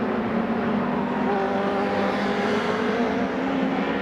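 An MRF Challenge single-seater race car on a qualifying lap, its engine droning steadily and loudly throughout at a consistent, unpushed pace.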